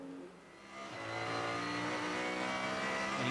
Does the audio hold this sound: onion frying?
no